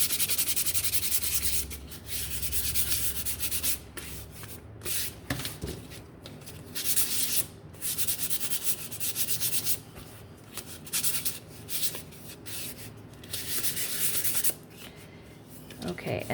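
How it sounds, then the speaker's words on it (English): Sandpaper rubs wooden craft hearts smooth in steady, close back-and-forth scratchy strokes, broken by short pauses, while someone talks over it. "So you can grab these and your sandpaper and give them a sand"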